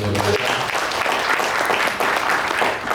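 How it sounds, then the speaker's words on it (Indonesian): Church congregation at a Sunday worship service clapping together, a full steady patter of many hands filling the room, moderately loud with a brief low voice at the start. "berikan tepuk tangan kita buat Tuhan."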